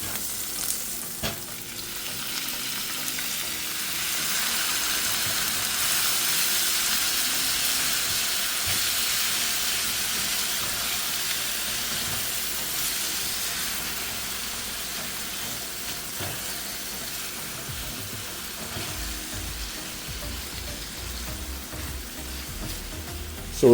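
Onion, herbs and spices frying in a hot pan before ground beef goes in, a steady close sizzle and hiss with occasional stirring scrapes, continuous and without talk.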